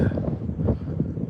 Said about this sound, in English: that's a cold Russia wind right there